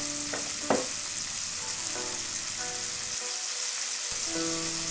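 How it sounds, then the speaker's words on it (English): Partly frozen ground beef frying with sautéed onions in a pot, a steady close sizzle with a few sharp clanks and scrapes as the meat is broken up and spread around, over faint music. "This beef is still a little bit frozen, so I'm breaking it up and spreading it around the pot"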